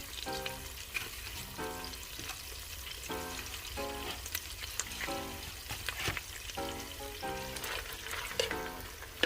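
Vegetables frying in sausage and bacon fat for Zuppa Toscana soup, a steady sizzle and crackle under short bursts of a voice, with occasional stirring scrapes.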